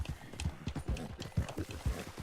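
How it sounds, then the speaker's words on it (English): Horses in a cowboy video game clip-clop in a quick, uneven rhythm of hoof strikes, close and clear throughout, with no talking over them. "look at these damn horses"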